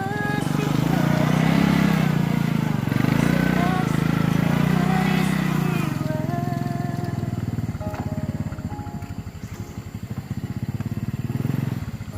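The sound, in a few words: motorcycle arriving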